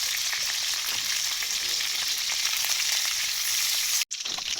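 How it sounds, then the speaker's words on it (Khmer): Rice field rat meat frying in hot oil in a pan as it is turned, a loud, steady sizzle and crackle that fills the whole stretch with a brief drop near the end. "បំពងក្រឡាប់ចុះឡើងមួយសន្ទុះសាច់កណ្ដូរយើងចាប់ផ្ដើមឡើងពណ៌ក្រហមក្រៀមស្រួយល្អណាស់"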